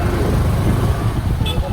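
A heavily loaded goods truck overtakes on a road, giving a steady loud engine and traffic roar throughout with a brief horn-like toot near the end.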